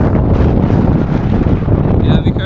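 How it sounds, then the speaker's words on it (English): Strong, gusty wind buffets the microphone at an outdoor RC airfield during the maiden flight of a model Air Canada Q-400, a loud, continuous rumbling roar with a faint high whine near the end. "the wind is kind of crazy."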